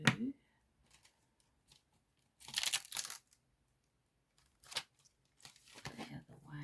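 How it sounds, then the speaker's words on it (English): Scissors cut designer series paper in short separate bursts of snipping and crinkling for a card-making project, close by, with silent gaps between the cuts. "what we've got to do now is cut up the DSP"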